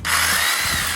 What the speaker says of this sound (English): so now see, I got a Sawzall